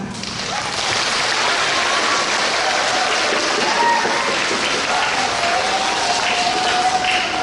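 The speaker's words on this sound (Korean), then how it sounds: "아낌없는 박수 보내주시기 바랍니다" A school audience of parents and pupils at an elementary talent show claps steadily and loudly for several seconds in a dense, continuous wash of applause.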